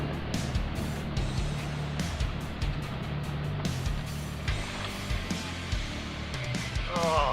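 Riding a motorcycle on a backcountry trail at 57 km/h, standing with the visor open, produces a continuous roar of wind buffeting over a low, droning engine hum, loud and unbroken throughout.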